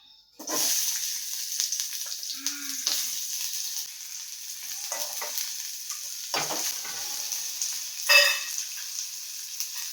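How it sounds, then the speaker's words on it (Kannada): Sambar masala fries in oil in a pan. Ladle stirs and scrapes come at irregular intervals over a constant close sizzle that lasts the whole time. "ಬಾಣಲಿಗೆ ಸ್ವಲ್ಪ ಎಣ್ಣೆನ ಹಾಕ್ಕೊಂಡು ಸಾಂಬಾರಿಗೆ ಮಸಾಲ ಫ್ರೈ ಮಾಡ್ಕೊತಾ ಇದ್ದೀನಿ"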